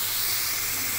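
Rice and washed mung dal frying in a hot pan, giving a steady, close sizzling hiss with no talk.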